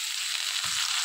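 Hot oil sizzles loudly and continuously as boiled chickpeas are tipped into a pan, with a soft thud of the chickpeas landing midway and no talking.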